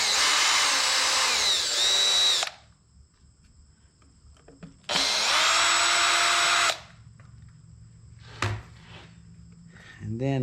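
A power drill backs Phillips head screws out of a 12-inch planer in two close, loud bursts of whining motor, each about two seconds long, with quiet handling noises and light clicks between them.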